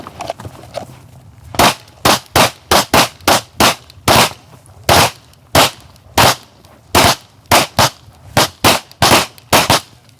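Handgun shots during a shooting drill at an outdoor range, many loud, sharp reports fired in quick groups of two to five with short pauses between strings, no talking heard.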